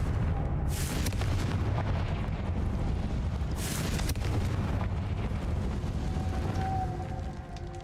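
A Confringo blasting spell explodes in the Hogwarts Legacy video game, loud continuous booming and rumbling with two sharper bursts, dense and sustained throughout with no talking.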